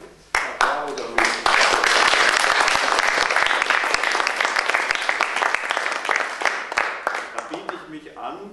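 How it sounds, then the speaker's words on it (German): A crowd bursts into loud, dense applause that holds steady for about seven seconds, with sharp individual claps poking through, then thins and tapers off toward the end. "und sehr viel Applaus"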